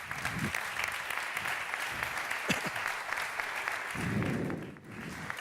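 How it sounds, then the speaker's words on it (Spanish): Audience applause at a sherry wine discussion between winemakers in Jerez: dense, steady clapping from a seated crowd, fairly distant and even throughout, with brief swells. "Un aplauso para ellos."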